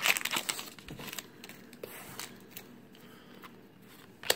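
Yu-Gi-Oh card pack wrapper crinkles and tears in short crisp bursts, close up, with quieter rustling between and a sharp crackle at the end.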